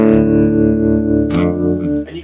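A slide guitar runs through a Carl Martin Surf Trem tremolo effect, holding a sustained warbling note that shifts to a new pitch partway through. It is loud and close, with no talking.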